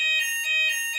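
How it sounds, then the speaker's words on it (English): An alarm sounding during a drill: a loud, shrill electronic tone pulsing in quick repeated bursts, steady and unaccompanied by any voices. "It's just the alarm, just the drill."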